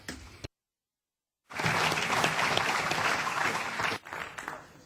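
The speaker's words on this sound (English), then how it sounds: "this applause is a thank you for you, for what you've said" Audience applause in the European Parliament after a debate with the US Secretary of Agriculture: a sustained, dense burst of many hands clapping that swells, holds steady for a few seconds, then tapers, following a brief silence.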